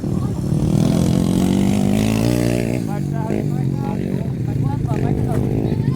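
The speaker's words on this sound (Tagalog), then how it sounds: "nag-wild gid yung motor." A motorcycle engine revs hard and loud at a Poblacion race event, its buzzing pitch climbing and wavering throughout while crowd voices carry underneath.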